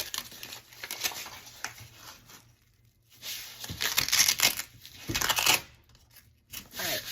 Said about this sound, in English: I like to just connect the hooks and loops right off the bat